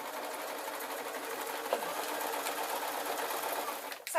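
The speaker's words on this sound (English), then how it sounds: "So I go back in the sewing machine" A sewing machine stitches fabric for a hanging shoe rack, a steady loud whirring drone running nearly the whole time before it stops abruptly near the end, with no talking.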